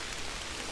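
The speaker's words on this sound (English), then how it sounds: "it's raining pretty hardcore now" Heavy rain falls outdoors on a Michigan farm, a dense, even hiss of downpour with no other sounds.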